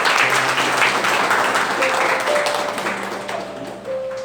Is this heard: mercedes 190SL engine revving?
no